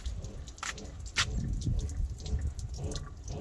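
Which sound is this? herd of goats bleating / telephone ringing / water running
water running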